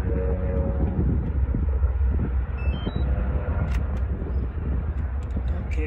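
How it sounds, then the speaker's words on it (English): A passing freight train makes a steady, dense rumble with rattling wagon noise and some wind buffeting, heard continuously at moderate distance from a roadside vantage with no talk. "at least we got to see a train today"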